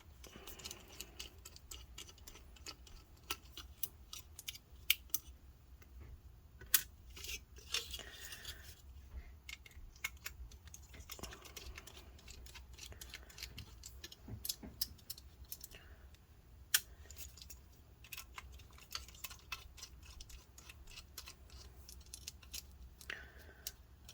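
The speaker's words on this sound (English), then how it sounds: "let's go ahead and remove these 4 screws" Screws being backed out of an HP computer's hard drive caddy, four in turn, giving faint, close clicks and small metallic ticks scattered irregularly over quiet room tone.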